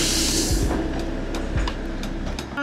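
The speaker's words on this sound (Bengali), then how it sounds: "সামনে দিয়ে এই টয় ট্রেন যাচ্ছে।" The Darjeeling toy train passes close by a roadside homestay near Darjeeling, a loud rumbling rail sound with a short hiss at the start and irregular metallic clicks and knocks as the carriages roll past.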